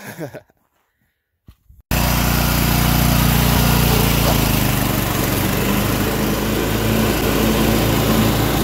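After a brief quiet start, the deck of a Sears Suburban 6HP diesel lawn mower suddenly starts up and runs in a loud, steady, continuous drone close by, with no talk.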